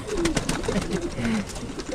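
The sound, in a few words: pigeons at a pigeon loft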